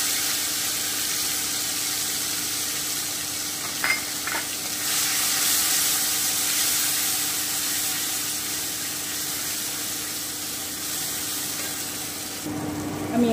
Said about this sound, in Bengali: আমি টমেটো, কাজু বাদামের পেস্টটা দিয়ে দিচ্ছি।